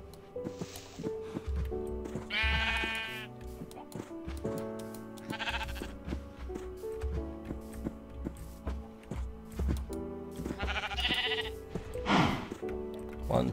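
Several wavering sheep bleats from the Minecraft video game sound in short bursts, a couple of them close together near the end, over steady in-game background music.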